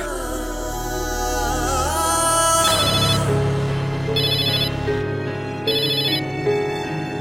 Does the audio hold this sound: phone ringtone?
yes